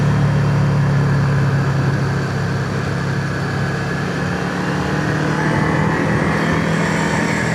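Motorcycle ridden along a Lake District road, its engine a steady loud drone close by with wind rush running continuously throughout, no talking.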